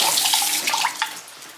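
Chicken broth water drains into a kitchen sink, a close rushing splash that tapers off over a second or so, with no talking.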